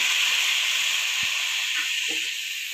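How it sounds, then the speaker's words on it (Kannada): Tomato and curry leaves sizzling in hot masala for a pepper chicken gravy, a steady close hiss of frying oil with a few soft stirring knocks underneath. "ಇದಕ್ಕೆ ನಾನು ಕಟ್ ಮಾಡಿಟ್ಟಿರೋ ಟೊಮೆಟೊ ಮತ್ತು ಕರಿಬೇವು ಸೊಪ್ಪನ್ನು ಹಾಕ್ತಾ ಇದ್ದೇನೆ"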